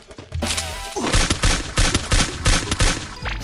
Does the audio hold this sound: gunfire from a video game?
yes